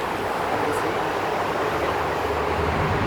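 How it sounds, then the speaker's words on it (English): Tram in Dubai rolls along its track, a steady, moderately distant rumble and hiss. The noise stays even throughout, with no voices. "Next tram is already coming also."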